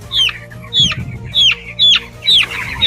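Broiler chickens in a poultry shed, one bird isolated with a respiratory ailment, give five short, sharp clucking calls at a steady rhythm, close and clear over a low hum of the shed.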